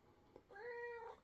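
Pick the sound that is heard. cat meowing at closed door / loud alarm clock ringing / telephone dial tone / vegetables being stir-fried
cat meowing at closed door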